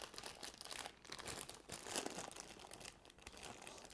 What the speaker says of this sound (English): Comes wrapped in some cellophane.